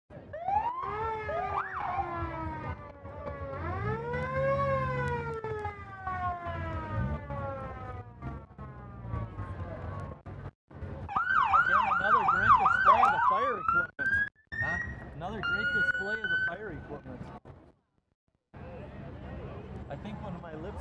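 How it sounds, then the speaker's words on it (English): Fire department vehicles at an Independence Day parade, including a 1952 chief's vehicle, sound wailing and yelping sirens close by, rising and falling repeatedly with brief gaps, while people talk over them. "I think when my lips move, the siren goes off"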